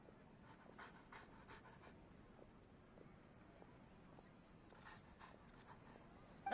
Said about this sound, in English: What a well-behaved doggy.